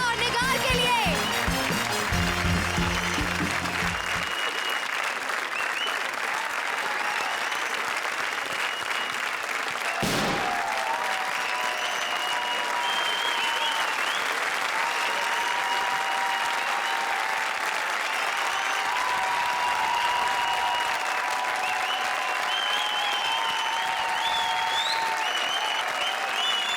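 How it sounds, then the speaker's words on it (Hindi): A studio audience at a comedy show applauds loudly and steadily, dense continuous clapping that carries on for the whole stretch with music playing underneath. "जोरदार तालियां राजा और निगार के लिए"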